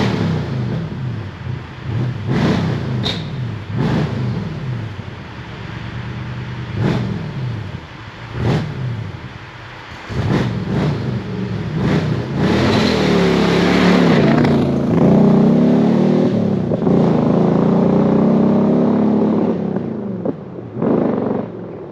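A Ferrari F40 engine revs and pulls away loudly and close, with repeated throttle blips and sharp bursts before building into a sustained, rising drive.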